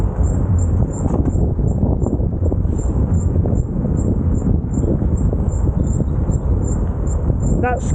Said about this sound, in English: That squealing noise you can hear is coming from the back brake